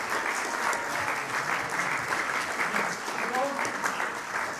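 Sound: applause in church farewell service

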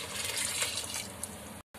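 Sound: pouring yakhni stock water into rice

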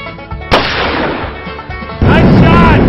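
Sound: gunshot while target shooting

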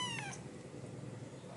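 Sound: one-month-old kitten meowing

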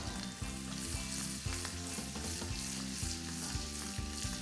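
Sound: onions and raisins frying in butter until browned

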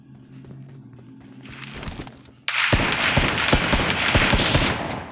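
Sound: pistol gunfire in BGMI video game

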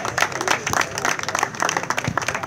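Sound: audience applause

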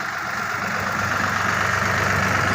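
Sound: tractor pulling a Bomet 2-30 plough through wet soil

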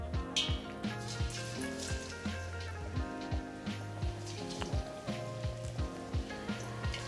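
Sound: chicken karaage frying in hot oil

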